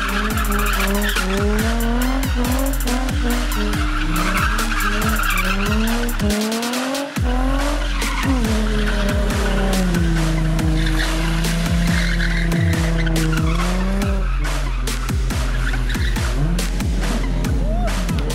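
Street drift car in a drifting event in Georgia, tires squealing loudly and continuously while the engine revs rise and fall through repeated slides, close and dominating throughout.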